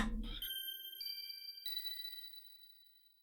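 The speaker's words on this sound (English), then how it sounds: "So, what does a splendid bell sound like?" A synthesized bell from a Space Quest IV soundtrack remix strikes three times in succession, each a clear ringing tone with long, slowly decaying overtones, heard alone after a brief lower sound at the start.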